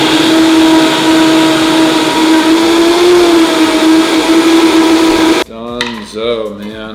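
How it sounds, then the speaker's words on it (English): A blender whirs steadily while blending a protein shake made with reverse-osmosis water, a loud continuous drone that cuts off after about five seconds, followed by a voice speaking. "we are ready to blend. Blender up."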